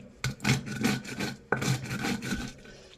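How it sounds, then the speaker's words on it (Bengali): Pumpkin lentil dumplings (kumro bori) get mashed for bharta, giving a close, rough rasping and grinding that comes in two sustained strokes, each starting with a sharp knock, and no one speaks. "কুমড়ো বড়িগুলোকে ভালোভাবে বেটে নেব যাতে একটু নরম নরম হয়।"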